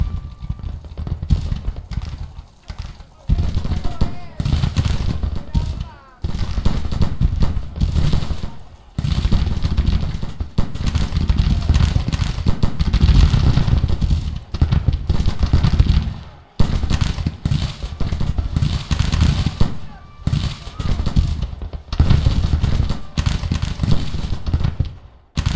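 Civil War artillery fire and battle noise in the Grand Tactician strategy game, with loud bursts of booming shots and crackling volleys coming in irregular waves, broken by a few short quiet gaps.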